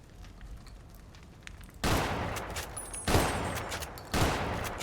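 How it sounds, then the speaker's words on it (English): Gunshots fired at a bomb in the video game Fallout New Vegas: three loud sharp reports, each followed by a long ringing decay, spaced about a second apart after a quieter opening. "So I'm just gonna shoot it then."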